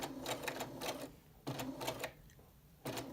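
A sewing machine stitching forward and then backstitching along a skirt placket, with several short runs of quick, even mechanical pulses separated by brief pauses, close but fairly quiet, no talking.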